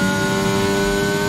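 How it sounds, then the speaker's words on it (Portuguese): A Mercedes power unit of a Formula 1 car in the racing game F1 22 at the Miami Grand Prix drones with a steady high-pitched whine, loud and continuous without pause. "Escute aí o motor Mercedes aí"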